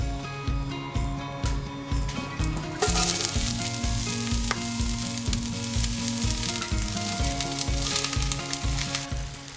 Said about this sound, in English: all of this is going to go into the pan and saute until golden brown